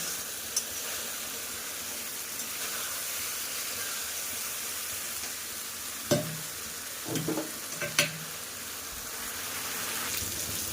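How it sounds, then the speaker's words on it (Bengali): Spice paste is stir-fried in oil for a country chicken curry, a quiet, low sizzle with a cluster of loud scraping stirs near the middle. "মশলাটাকে খুব ভালোভাবে কষিয়ে নেব যাতে এর ভিতরে জলটা মরে গিয়ে যত সময় তেলটা না বের হয়ে আসে তত সময় আমি খুব ভালোভাবে এটাকে কষিয়ে নেব"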